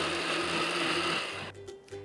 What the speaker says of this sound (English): Just give that a few pulses, and what we wanna do is just kind of break up that purple sticky rice